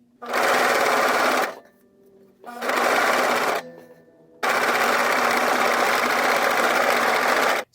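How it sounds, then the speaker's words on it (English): A sewing machine stitching elastic onto fabric skate soakers, three loud steady whirring runs of rapid needle strokes separated by short pauses, close and alone. "I have sewn the elastic on both sides."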